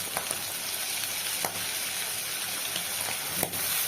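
Garlic paste frying in a pan gives a steady, close, dense sizzle that runs throughout, with a few faint clicks of stirring.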